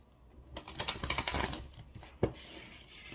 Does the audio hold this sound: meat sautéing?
no